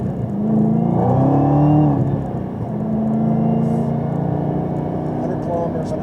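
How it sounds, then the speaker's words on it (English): Sports car engine blipping on a downshift with rev match, a brief surge in revs rising then settling into a steady low rumble from inside the cabin, with someone talking over it. "Downshift with rev match."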